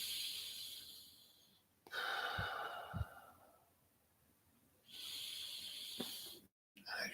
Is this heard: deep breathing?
yes